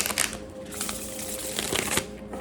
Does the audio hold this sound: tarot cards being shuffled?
yes